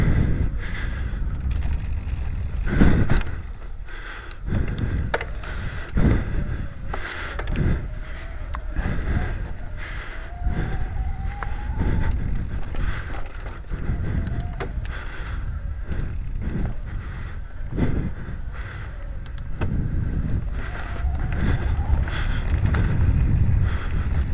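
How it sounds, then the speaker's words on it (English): A 2021 Intense Tazer MX Pro electric mountain bike ridden on a trail, with a steady stream of loose rattling and clattering over bumps and faint motor whine, close and continuous, no talking. "I don't know if you can hear a little bit of the rattle."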